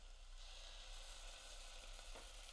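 Onions and garlic sweating in olive oil give off a steady, soft sizzle, a continuous low frying hiss with no talking.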